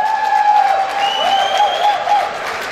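Audience applause at a sports awards evening as a young sports talent steps onto the stage, a loud continuous wash of clapping with faint tonal stage music or sustained tones running underneath.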